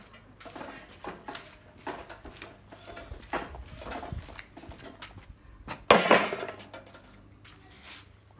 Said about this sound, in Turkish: bulaşıklarını yıkayacağız artık.